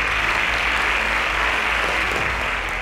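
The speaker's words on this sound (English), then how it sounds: "I think they deserve a round of applause." An audience applauds at a competition semi-final, a steady wash of many hands clapping that holds evenly, then eases off slightly near the end.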